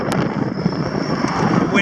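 Wind buffeting the microphone outdoors on a windy, sunny morning, a steady broadband rumble and roar throughout with slight gusting swells, loud and close, with no clear speech over it.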